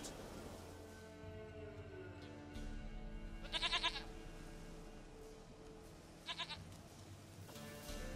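A goat in the video game The Witcher 3 lets out two short, quavering bleats a few seconds apart, mid-distance, over a soft ambient backdrop.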